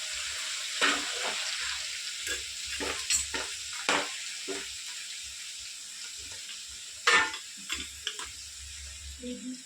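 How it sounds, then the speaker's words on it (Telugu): Ginger paste sizzles in hot oil for a gongura chicken pickle, a bright frying hiss with repeated scraping stirs and bursts of spattering, close and loud in short waves. "ఈ ఆయిల్లోనే వేగుతుంది అల్లం పేస్ట్ కూడా"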